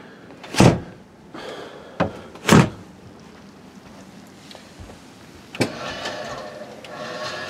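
The hydraulic engine hatch on a 2001 Baja 342 Boss boat opens with a few sharp clunks and thumps, followed by a steady mechanical whir near the end.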